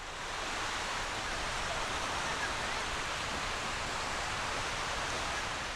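Sea waves on the Byeonsan coast send up a broad, steady rushing wash at moderate level, continuous and without distinct breaks, with no talking.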